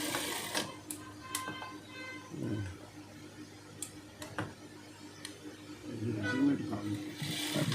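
Sewing machine stitching the side seam of a school uniform dress, quick bursts of mechanical whirring and ticking separated by pauses, close by and fairly quiet, with someone speaking in between.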